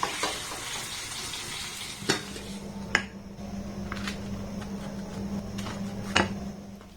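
Potato and flour snacks frying in hot oil give a steady, moderately loud sizzle, with a few sharp utensil clinks against the pan now and then.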